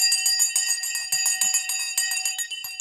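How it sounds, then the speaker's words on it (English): A bright bell rung repeatedly to mark the close of trading on a stock market broadcast, metallic strikes in quick succession with sustained ringing, loud and alone. "let me ring the bell"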